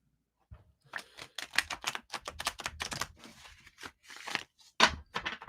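A deck of playing cards gets shuffled by hand, a burst of quick, close riffling flutters and snaps in short uneven bursts, with brief pauses between them.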